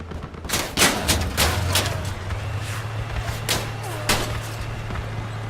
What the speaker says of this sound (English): I hope that's not a machine gun that's taking off our tank panels